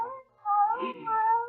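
A cat meows in a radio drama, two drawn-out tonal cries with a brief gap between them, clear and close with no talking over them.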